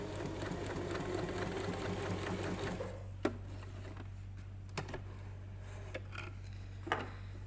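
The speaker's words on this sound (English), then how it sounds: "I'm going to use my scrap piece of fabric to test that stitch to see how big it is" Sewing machine running a test stitch on a scrap of fabric, a steady close whir and rapid needle chatter for about three seconds, then it stops, leaving a low hum and a few faint clicks.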